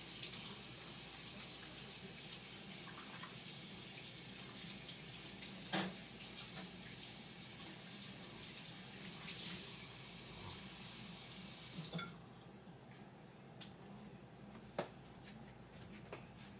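A kitchen water tap runs steadily into a sink while hands are washed, a continuous close hiss and splash with a few small clunks, and the flow thins near the end.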